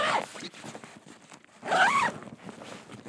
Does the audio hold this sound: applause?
no